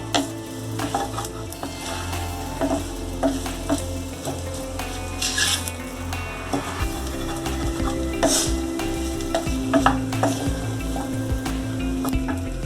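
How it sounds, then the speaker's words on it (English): Meat and chana dal being sautéed in a heavy pan, with continuous close stirring scrapes and clinks over a soft sizzle, steady throughout with no talking. "Saute this well."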